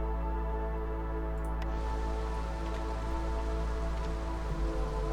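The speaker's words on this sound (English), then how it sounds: "Ooh, thunderstorm, lightning storm." A thunderstorm in the city-building game Against the Storm brings steady rain and droplet patter over a constant low tonal hum from the game, even and unbroken with no speech.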